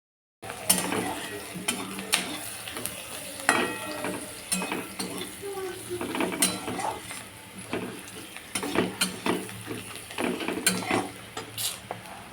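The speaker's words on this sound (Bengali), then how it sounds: "এই যে পেঁয়াজটা ভাজা বসিয়ে দিয়েছি, এটা ভাজা হোক" Onions sizzle softly in a pan as a spoon scrapes and stirs them in irregular bursts, with clinks of metal cookware, while the base for a cumin, onion and tomato fish curry cooks.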